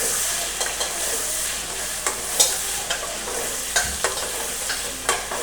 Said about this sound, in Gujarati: હવે તેને પણ આપણે મિક્સ કરી નાખશું સારી રીતે.